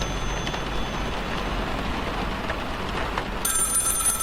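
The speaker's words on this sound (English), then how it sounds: "she is startled by a phone call" A telephone bell starts ringing near the end, a bright, high-pitched trill breaking in over a steady, rain-like background hiss, with no voices.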